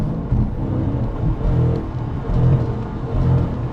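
Dodge Challenger Widebody Scat Pack accelerating, a steady low engine rumble with rhythmic surges of power, heard from inside the car with no talking.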